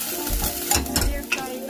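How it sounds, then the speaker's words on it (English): Pork stir-frying in a hot pan, a brief close sizzle with scraping stirs and a couple of light utensil knocks. "So for the pork, stir fry the pork."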